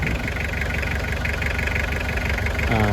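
A Toyota 2L diesel van engine idles loudly and steadily with a harsh, abnormal knocking clatter running through its low rumble, close up and continuous, with no voices.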